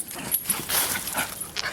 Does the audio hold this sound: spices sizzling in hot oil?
no